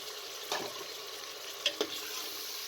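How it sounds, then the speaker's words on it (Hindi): Spices, garlic and ginger fry in a pan with a soft, steady sizzle while a utensil stirs, giving a few light scrapes and clinks. No one talks. "और 2 से 3 मिनट के लिए अच्छे तरीके से इसे भून लें"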